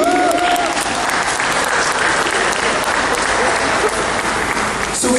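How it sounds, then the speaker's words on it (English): A crowd at a dance academy performance in Guam breaks into loud, continuous applause that stays full and steady, with cheering voices blended into the clapping. "Would you please give a round of applause to the Natibu Dance Academy."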